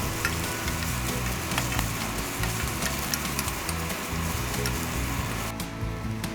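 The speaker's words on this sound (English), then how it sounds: "I hope you can hear the sizzle that goes along with the stir fry" Steady, dense sizzle of a stir fry cooking in a hot pan, a continuous crackling hiss at even loudness throughout with no voices.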